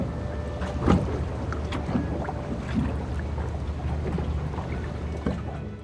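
Sea sounds heard while dining in an underwater restaurant: a steady, soft wash of water noise with faint splashes and knocks, continuous and moderately quiet, with no talk.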